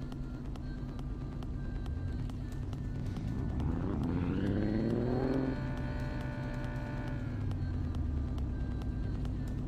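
Car engine in a racing simulator game, a steady hum joined midway by a rising rev that climbs sharply, holds a high tone, then settles back to a lower drone.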